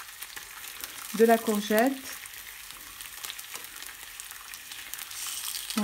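Courgette slices frying in a pan for a halloumi burger: faint steady sizzle, with a brief voice speaking near the start.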